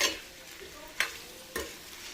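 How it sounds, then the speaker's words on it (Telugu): Potatoes frying in a pan over a low flame, a soft constant sizzle with two sharp scrapes of a spoon stirring them. "ఇప్పుడు సన్నని సిమ్మి మీద మంచిగా ఫ్రై అవ్వాలి."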